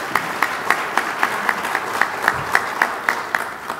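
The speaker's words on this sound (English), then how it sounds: "Yes, go ahead and clap for that." A luncheon audience claps steadily, a sustained wash of applause with a few louder hands keeping a regular beat above the crowd.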